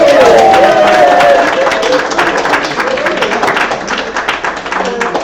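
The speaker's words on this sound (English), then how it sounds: "give a big round of applause for Ed" Church congregation applauding at a Sunday service, dense clapping with a few cheering voices on top, loud at first and slowly thinning over several seconds.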